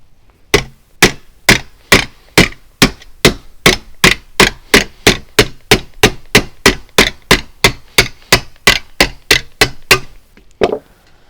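Rapid, evenly spaced hammer blows on sheet metal box corners, around thirty sharp metallic strikes in a steady rhythm, close and loud, then a brief pause.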